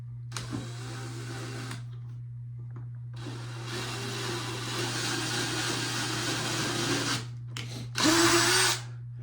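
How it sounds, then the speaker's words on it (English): Power drill starting holes in a proton pack valve, loud whirring bursts of a few seconds each with short pauses between, close and alone over a steady low hum. "I'm gonna get it to where I can just start the holes and then I'll take the valve off and finish them"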